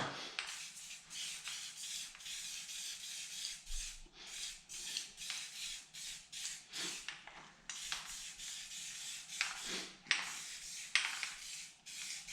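Paint being applied by hand to a snow plow blade on a Grizzly 350 setup, soft repeated brushing and rubbing strokes, close and quiet, in irregular bursts with brief pauses.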